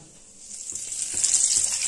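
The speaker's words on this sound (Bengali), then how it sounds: "এবার 1/2 চামচ থেকে একটু কম কালো জিরে দিলাম।" Black cumin seeds sizzle in a little hot mustard oil left over from frying fish, a steady hiss that swells slightly louder toward the end, with faint stirring clicks underneath.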